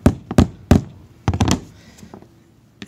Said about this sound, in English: Give it a couple of whacks with the hammer.